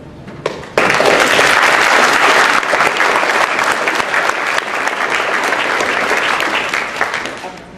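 A large crowd at an end-of-year awards banquet bursts into loud, sustained applause for the graduates, with dense clapping swelling suddenly and holding steady for several seconds, and a few brief voices mixed in.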